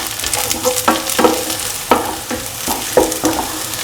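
Green chilies stirred and fried in a pan with garlic, onion and shallot: a steady sizzle under about eight rhythmic scraping strokes of the spoon, close and clear, with no talking.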